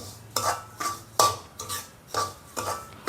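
Semolina (rava) roasting in oil in a pan for vegetable upma, stirred with a spoon in repeated scraping strokes, a rhythmic gritty rasp of metal on pan about every half second, close and steady.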